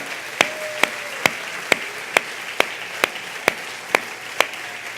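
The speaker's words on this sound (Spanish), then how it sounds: "Dale un aplauso al Señor." Steady, evenly spaced claps from a church congregation, about eleven sharp hand claps roughly twice per second, crisp and fairly close, with a faint sustained tone behind them.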